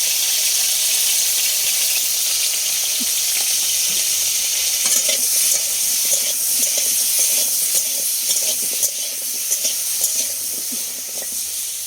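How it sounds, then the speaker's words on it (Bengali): Potatoes and pointed gourd frying in oil with salt and turmeric in a pan, a steady bright sizzle with occasional clinks and scrapes of stirring. "আলু আর পটলগুলো আগে তেলে দিয়ে দিচ্ছি লবণ আর হলুদ দিয়ে ভেজে নেব"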